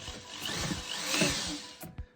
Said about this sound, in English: You don't have to use a power drill. I just do because I can.